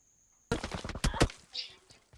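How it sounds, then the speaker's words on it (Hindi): Gunfire in BGMI mobile battle royale gameplay: sudden rapid bursts of automatic shots break in after a quiet start, loud and close, with a couple of sharper cracks and a short trailing tail. "मेरे ऊपर हो जाती है फायरिंग।"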